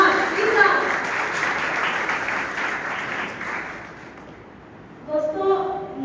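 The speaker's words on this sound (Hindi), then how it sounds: "A big round of applause to you all." An audience applauds at a career guidance session for NEET medical-entrance aspirants, with dense, steady clapping for about four seconds before it fades and a voice begins speaking.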